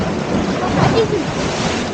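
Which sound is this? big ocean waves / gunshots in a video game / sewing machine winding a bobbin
big ocean waves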